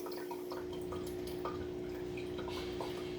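Water trickles and drips steadily into a Marina hang-on breeder box on an aquarium, a constant close splashing flow over a steady pump hum.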